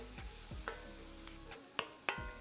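Flour frying in oil in a pan for an onion gravy to go with Cajun smothered pork chops, a steady low sizzle broken by several sharp scrapes and stirs of a utensil against the pan, close and with no talking.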